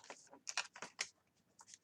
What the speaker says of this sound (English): I just had a stack of cards fall out.